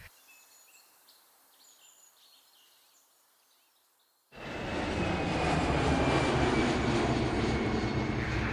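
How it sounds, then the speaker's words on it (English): An aeroplane flying by: after several seconds of quiet outdoor ambience with faint bird calls, a loud, steady engine roar begins abruptly and fills the rest of the clip, close and sustained. "An aeroplane."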